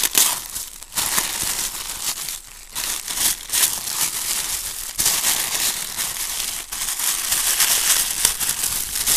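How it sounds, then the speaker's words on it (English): Tissue paper crinkling and rustling close up as an anniversary gift is unwrapped, irregular bursts of crackling with brief pauses between handfuls. "it's a matching ribbon with matching tissue paper."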